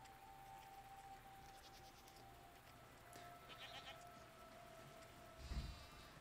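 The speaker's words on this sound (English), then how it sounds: "You can pet the goats." Goats bleat a few times in a video game over a steady low hum, with a louder, closer bleat near the end.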